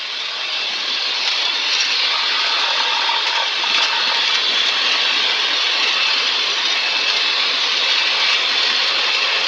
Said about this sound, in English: You can hear the engine difference.